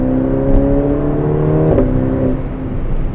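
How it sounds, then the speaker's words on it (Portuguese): A Ferrari Portofino's engine roars from inside the cabin in manual sport mode, a loud, steady drone that climbs in pitch and then drops at a quick gear change, continuing under acceleration. "Um ronco gostoso de ouvir, ó."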